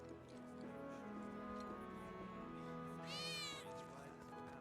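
A cat meows in Final Fantasy VII Remake, a couple of drawn-out whiny meows over steady game music and ambience, with one higher, sharper cry near the end.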